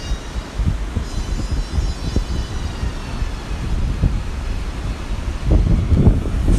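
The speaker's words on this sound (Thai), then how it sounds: "ลมแรงจัด" Strong wind buffeting the microphone at a Koh Chang seaside resort by the swimming pool, a steady low rumbling roar with gusty thumps that swell louder toward the end.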